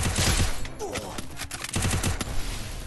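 Rapid gunfire from a shooter video game crackles in dense, overlapping bursts, loud and continuous, with volleys swelling and easing across the moment.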